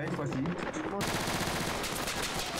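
Rapid automatic gunfire in the military video game Project Reality 2, a dense run of loud repeated shots that continues through the passage.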